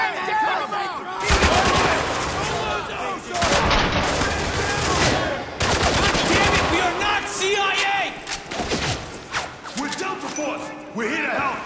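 Heavy gunfire in the Xbox 360 shooter Spec Ops: The Line, with dense automatic bursts and rapid volleys filling long stretches at close range, broken by brief pauses, with shouting voices mixed in.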